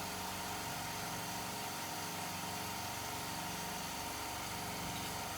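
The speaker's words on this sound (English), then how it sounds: "Excuse the compressor there, it's just kicked in." An air compressor runs in a workshop during a car paint restoration, a steady, loud, continuous mechanical drone with no pauses and no talking.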